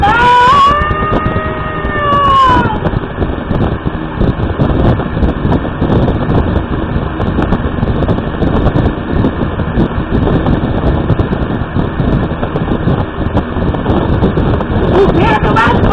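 An electric fan blows straight into the microphone, producing a loud, steady roaring rush of air with a warbling voice talking through it.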